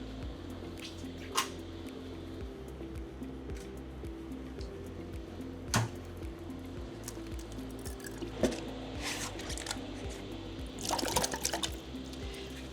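A freshly sublimated drinkware tumbler, wrapped in shrink wrap, is cooled in room-temperature water, giving soft sloshing, squishing and dripping with a few louder splashes against a steady low hum.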